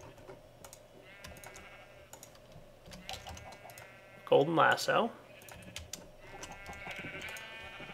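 Sheep bleating in a video game, a loud burst midway amid game music and light keyboard typing, with a voice speaking briefly.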